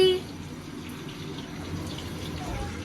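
A tap runs steadily into a container during Holi festival cooking at home, a soft, constant hiss of filling water at low level with no clear break.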